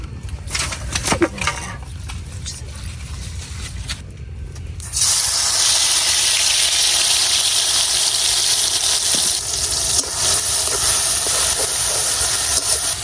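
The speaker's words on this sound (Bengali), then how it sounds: "একদম লাল লাল করে চিংড়িগুলা ভাজা নিলাম।" Shrimp coated in salt and turmeric frying in hot oil, a loud, steady sizzling hiss that jumps up sharply partway through after a quieter start.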